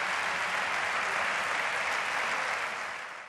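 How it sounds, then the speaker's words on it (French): A dense, unbroken wash of crowd applause from a Star Wars film scene rolls on evenly, then fades out at the end. "Ainsi s'éteint la liberté, sous une pluie d'applaudissements"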